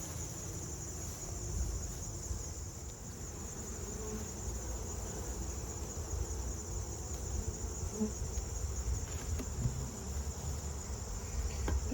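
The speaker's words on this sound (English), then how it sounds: "A lot of bees on the inner cover." Honey bees in a small colony hum steadily on the inner cover of an opened hive, a low, continuous, fairly faint buzz with a persistent high insect whine over it.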